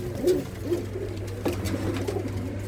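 Pigeons coo in a loft in Tangra village near Amritsar, low soft rolling calls repeating every half second or so over a steady low hum, close and moderately loud.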